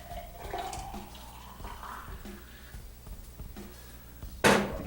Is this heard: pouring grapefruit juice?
yes